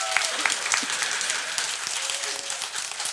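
Church congregation at a Korean Sunday worship service breaking into applause, a full steady wash of many hands clapping that holds across the whole stretch.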